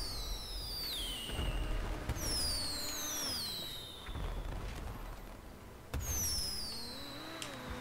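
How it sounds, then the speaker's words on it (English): Fireworks fired in the video game GTA V, several rising whistles sweeping upward and ending in sharp pops and bursts, spaced every couple of seconds with a steady background rumble between them. "start firing fireworks"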